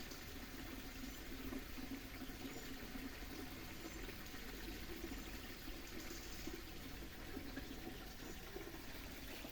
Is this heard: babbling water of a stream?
yes